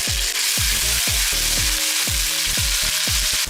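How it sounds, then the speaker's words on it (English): Onions frying with ginger garlic paste in hot oil for a Hyderabadi dish, a loud continuous close sizzle broken by rhythmic thumps of a spoon stirring the pan. "Fry until the onions become light brown in color"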